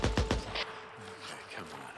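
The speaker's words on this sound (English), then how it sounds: "Gunshots." Several quick gunshots crack in a rapid burst in the video game Days Gone, followed by quieter game ambience.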